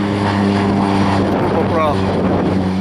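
A Cessna Caravan propeller aircraft passes at an air show, a loud, steady droning engine hum with a rising whine partway through, while voices talk over it.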